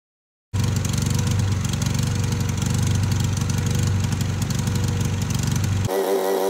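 A Grasshopper 720K riding mower engine runs steadily and loudly throughout, with a droning mid-low rumble that starts abruptly and shifts character near the end.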